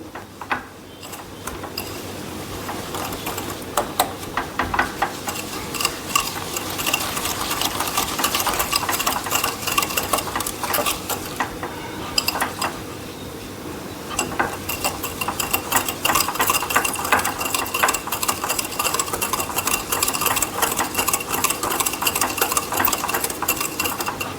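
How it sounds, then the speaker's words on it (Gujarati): Cream and powdered sugar are whisked by hand in a bowl, producing a fast, continuous metallic clatter and swish of whisk against the bowl that keeps going with brief pauses, with no talking. "તો હું આ ક્રીમને આ રીતે ફેટીને કરી રહી છું"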